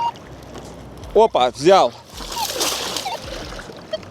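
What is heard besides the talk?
river waves from passing barges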